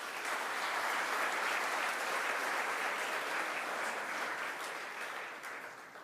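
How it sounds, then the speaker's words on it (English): Audience applause at a university gathering, AMET University in India, as a steady dense clapping that stays loud throughout and fades slightly near the end. "You are sitting here means you should give one big round of applause for yourself."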